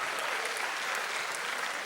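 An audience at a poetry gathering (kavi sammelan) in Lucknow breaks into dense, steady applause that fills the moment, loud and continuous without a break.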